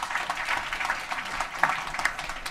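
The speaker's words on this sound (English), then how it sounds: "Oh, applause. All right, let's applause." Audience applause at a Go programming conference, a steady wash of clapping from a crowd that carries on throughout without pausing.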